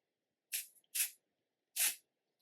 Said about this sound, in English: go ahead and spray it wherever you use this